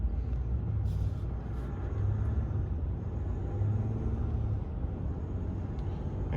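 A 2020 Ram 1500 Limited EcoDiesel pickup pulls away with a steady low rumble of the diesel engine and road noise, heard from inside the cab at a constant level throughout with no talking.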